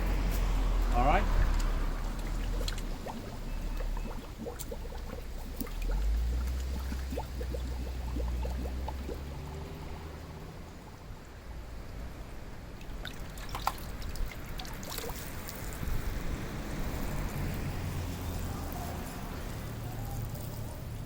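Water poured into a 5-gallon wicking tub of peppers, trickling and splashing in uneven bursts at close range while someone talks over much of it.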